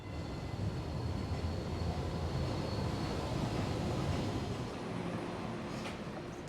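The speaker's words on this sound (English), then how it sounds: "This trolley that I'm on right now is actually quite different than the last one because it's mostly low floor." Steady low rumble and rattle from inside a moving MBTA Green Line trolley, a mostly low-floor electric streetcar in Boston, continuous and fairly loud with no talking.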